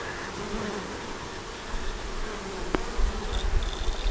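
Honey bees from a swarm buzz steadily inside a hive as they draw comb on fishing-line foundation, with a close, continuous drone and a brief sharp tick partway through.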